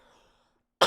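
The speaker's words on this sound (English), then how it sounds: "I've just had a bad cold and I'm coughing every day for the past week" A single sharp cough bursts out at the very end after near silence, brief and close.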